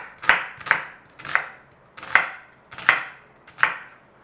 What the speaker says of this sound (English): we are just going to cube the onion